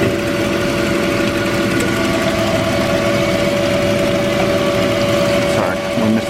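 A metal-cutting saw machine runs a slow first cut with coolant flowing, a loud steady mechanical drone with a constant tonal whine, close and uninterrupted until a brief dip at the end.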